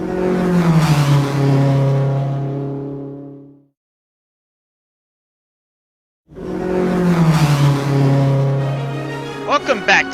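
A Toyota Super Supra race car in Gran Turismo 7 at Brands Hatch, its engine revving hard and then falling away, silent for a few seconds, then roaring back up with a brief tyre squeal at the end.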